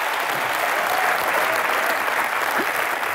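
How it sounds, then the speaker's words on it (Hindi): Studio audience of a Hindi comedy talk show bursts into loud, dense applause, a continuous wash of clapping throughout with no pauses. "हमारी कंजूसी और कंगना के सेंस ऑफ ह्यूमर के लिए जोरदार तालियां"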